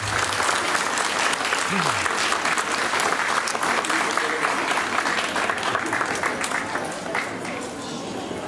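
Steady, dense applause from a large audience at a school year opening ceremony, sustained and even for the whole stretch with a slight drop near the end.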